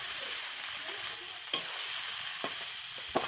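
Onion sizzling in hot oil with a steady bright hiss throughout, close by, and a few sharp clicks of a utensil against the pan.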